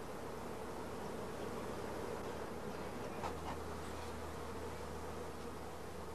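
Honey bees buzz steadily over brood and food frames at a queen-rearing nucleus, a continuous quiet drone of many insects with a brief louder pass partway through.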